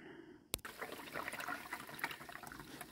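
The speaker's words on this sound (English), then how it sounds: "let's turn on the water and see what happens" Water gushing into a DIY koi pond pre-filter and sieve filter after a control valve is opened, starting with a sharp knock then a steady splashing rush, close and alone.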